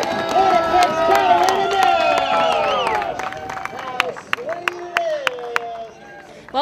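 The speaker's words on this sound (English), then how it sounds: "The crowd is cheering." A crowd cheers and shouts at a cross country race in Deer Valley, with loud raised voices at first that thin into scattered calls and claps.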